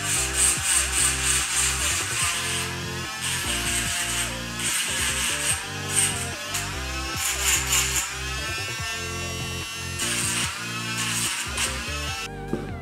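A power tool grinds and smooths a piece of natural Baltic amber holding a spider, a loud whirring buzz that rises and drops in short bursts as the piece is pressed and lifted, with no talking.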